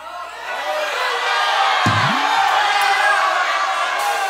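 A live comedy show audience shouts and cheers in a broad, sustained roar of voices that swells and holds, loud and filling the room.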